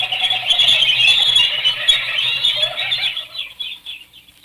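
Birds in an old-time radio drama, Dangerous Assignment, flutter and squawk in a close, busy burst that fades away toward the end, with no one speaking over it.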